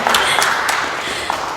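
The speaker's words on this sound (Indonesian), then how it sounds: "tepuk tangan" Applause for a band's debut album release fills a short stretch with broadband, steady clapping, loud and close with no pauses.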